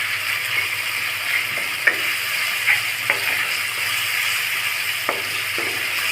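Spice paste with Kashmiri chili powder, a splash of water and salt sizzles steadily as it is stir-fried for an egg and masoor dal dish, with a few sharp spoon scrapes and clinks against the pan.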